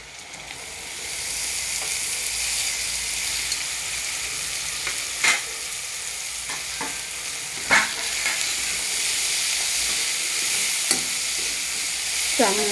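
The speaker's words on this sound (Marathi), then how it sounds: "चांगलं परतून घ्यायचं आहे मिक्स करून" Boiled mung beans are stirred and sautéed in a hot pan, giving a continuous bright sizzle broken by a few sharp clinks and scrapes of the spoon, with no talking.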